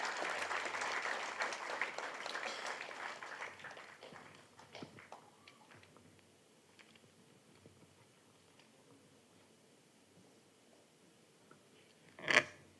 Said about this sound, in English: Let's give a warm round of applause to everyone to keep this legacy alive.